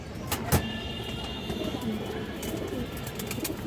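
Silver pigeons in a loft, soft low cooing close by under faint background noise, with a couple of brief sharp clicks near the start and a voice talking.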